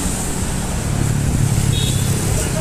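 An Indonesian intercity bus on the Wonogiri–Bandung route rolls past on a roadside, giving a steady, fairly loud low engine rumble with general traffic noise around it.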